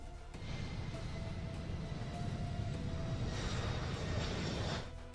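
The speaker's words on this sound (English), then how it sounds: "the first of 3 C-5M test planes had its maiden flight" A Lockheed C-5M military transport jet in flight gives a loud, continuous, broad engine roar with a faint whine, holding steady for several seconds before easing off slightly.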